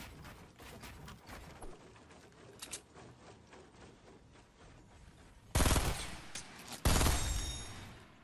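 Gunfire in the video game Fortnite, with two loud, sharp bursts of shots near the end following a stretch of quieter game sounds and faint clicks.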